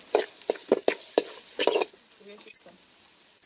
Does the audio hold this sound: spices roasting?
yes